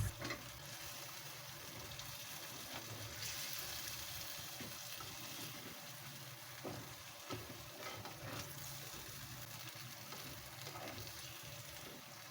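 Chicken kurma frying and simmering in oil in a pot, a steady busy sizzle with bubbling and occasional stirring clicks, close and continuous throughout with no talk.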